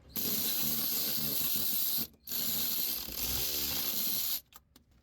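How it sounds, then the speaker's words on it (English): Electric wrench fitted with a 12mm socket tightening a car battery terminal on a Dodge Journey, a loud continuous whirring ratchet run lasting about two seconds, a short break, then a second similar burst. "we're going to use the electric wrench with a 12mm socket"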